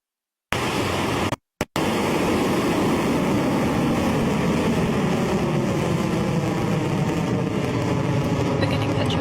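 A Rocket Lab Electron rocket lifts off from the launch pad with a loud, steady, broadband roar that starts abruptly and holds for several seconds. A short dropout breaks it near the start.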